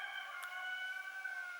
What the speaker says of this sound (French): le coq aussi, il est d'accord